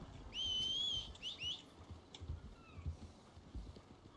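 A horse in the video game Red Dead is heard faintly, with soft clip-clop hoofbeats scattered along a quiet low background, while a short high whistle sounds near the start.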